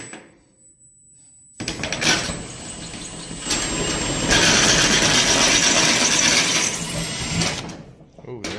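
A power drill bores into the metal lock of a public storage unit door, grinding and chattering steadily for several seconds before easing off, close and loud.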